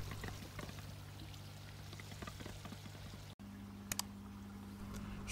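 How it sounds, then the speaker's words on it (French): Water being drained from an outdoor fish pool during a partial water change, a steady quiet pouring and trickling under a constant low pump hum, with a brief dropout and a couple of faint clicks. "donc là je commence à vider de l'eau de la piscine pour pouvoir en remettre de la neuve"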